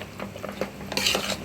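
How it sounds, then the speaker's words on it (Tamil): Payaa simmers in a pan while a utensil stirs and scrapes it in a few quick strokes, with a soft sizzle and clear metal clinks close by. "கைவிடாமல் நல்லா வதக்கணுங்க."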